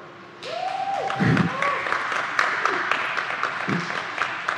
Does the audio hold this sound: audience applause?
yes